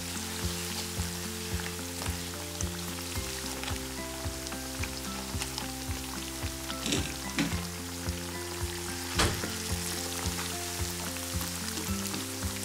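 Steady crackling sizzle of battered banana fritters frying in hot oil, dense and continuous with occasional louder pops, no voices.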